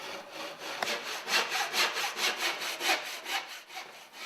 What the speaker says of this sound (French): Le bois est simplement découpé à la scie égoïne.